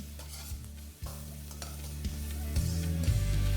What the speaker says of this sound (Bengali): এবার ভালো করে এটাকে একবার মিশিয়ে নিই